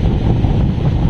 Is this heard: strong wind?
yes